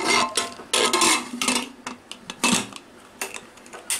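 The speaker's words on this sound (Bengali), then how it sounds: "এবার আমি প্রেশারটা ওভেনে বসাচ্ছি, মিডিয়াম ফ্লেম।" A pressure cooker of mutton set down on a stove: a run of loud metallic clanks and rattles of metal on metal, close by, in uneven bursts with short pauses between them, and no voices.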